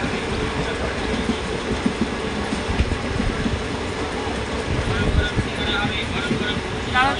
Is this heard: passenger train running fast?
yes